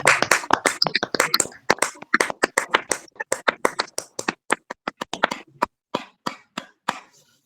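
Women at a church fellowship testimony gathering clap in thanks to God, starting as a flurry of close, sharp handclaps that thins into scattered, evenly spaced individual claps before stopping.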